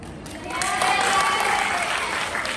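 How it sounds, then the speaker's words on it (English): Sustained audience applause fills a room during a presentation, rising quickly to a dense, steady roar of many hands clapping that holds loud throughout. "Why don't we reward ourselves with some hands clapping?"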